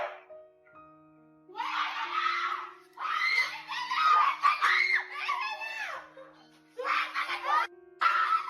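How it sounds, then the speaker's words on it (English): Frightening screams come from a neighboring apartment, a run of shrill, wavering cries in several bursts with short silences between, set against a faint steady background hum. "frightening screams broke the peace in the neighborhood"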